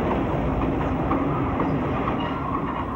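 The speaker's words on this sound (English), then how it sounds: "I also have a tape that goes clickety-clack, clickety-clack, a cassette" A train rolls along the railroad track with a steady rumbling clickety-clack from the wheels, continuous and fairly loud throughout the short stretch.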